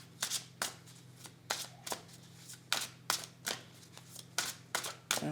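Tarot cards being shuffled and drawn, a run of crisp riffling bursts repeating in a steady rhythm over a faint low hum, close and moderately loud with no voices.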